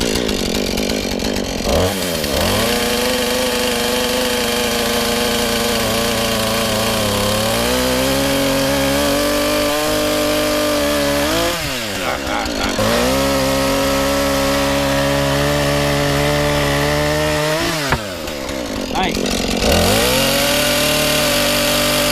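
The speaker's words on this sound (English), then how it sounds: "I have this chainsaw over here that I just did all this other work with." A chainsaw cuts wood during house building, engine running loud and steady throughout with pitch shifts as it bogs into cuts and revs between them, about three distinct cutting passes.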